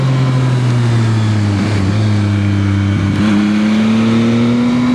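A 2025 Yamaha XSR 900 motorcycle engine drones loud and close at steady revs while riding twisty roads. Two brief dips in engine pitch mark gear shifts before the tone settles again, with no talking.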